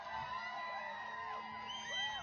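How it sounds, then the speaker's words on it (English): A crowd of bass fishing fans whooping and cheering at a Bass Pro Shops Central Open tournament weigh-in, a sustained chorus of overlapping yells and rising whoops at moderate distance. "What a great crowd we got here today"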